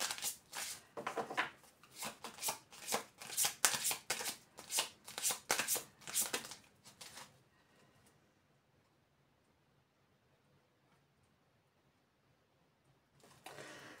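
Tarot cards are shuffled in quick, crisp riffling bursts for about seven seconds. Near silence follows, then a short rustle returns at the very end.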